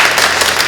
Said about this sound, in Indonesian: Bravo, ayo tepuk tangan untuk Jay